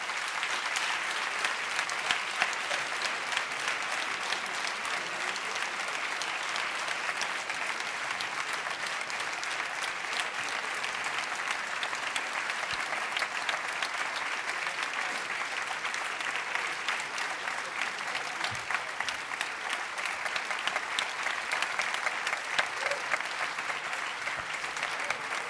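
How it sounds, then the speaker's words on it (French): Sustained applause from a concert audience welcoming pianist Jean-François Zygel onto the stage, a steady dense wash of clapping that holds evenly for the whole stretch with no voices over it. "je vais vous demander de l'accueillir sous vos applaudissements."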